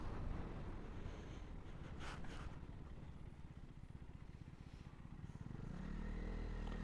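A motorcycle rides past a toll plaza on a long solo highway trip from Bengaluru to Asansol, its steady engine drone mixed with heavy wind rush over the microphone, the engine note swelling toward the end.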